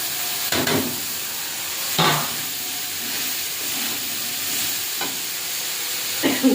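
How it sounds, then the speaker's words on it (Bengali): Red potato, eggplant and bitter gourd frying together in a pan: a steady sizzling hiss broken by a few louder stirring scrapes and bursts at intervals, with no voices. "এবারে লাল আলু বেগুন উচ্ছে সব একসঙ্গে দিয়ে দেবো।"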